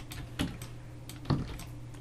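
Two sharp keyboard keypresses, about a second apart, tapping a shortcut while modelling in Blender, close and fairly quiet against a low steady hum.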